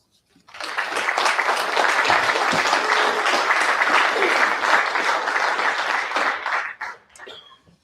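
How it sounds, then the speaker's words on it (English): An audience at a political event applauds speakers in a sustained, dense wave of clapping lasting several seconds, starting abruptly and then thinning out to a few scattered claps. "Can we get another round of applause for all three of our speakers there?"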